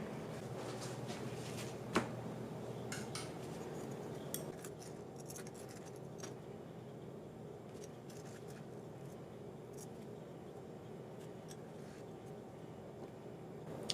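Freshly cleaned silver jewelry, gritty from baking soda, is lifted out onto a paper towel with faint, scattered metallic clinks and light taps, close up but quiet, with a sharper clink near the start.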